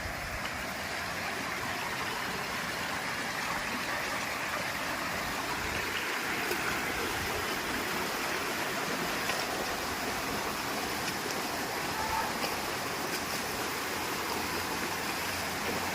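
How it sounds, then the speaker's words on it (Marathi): Water babbling along a stream near a waterfall, a steady broadband rush that holds at an even loudness and stays unbroken from start to end with no voices. "ते पाणी वाहतं, खळखळतं पाणी"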